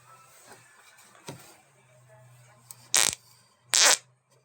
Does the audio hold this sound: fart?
yes